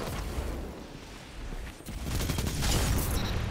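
Dense bursts of gunfire from a Destiny 2 match, rapid shots clustering and swelling toward the end with booming impacts, loud and close with no talk over it.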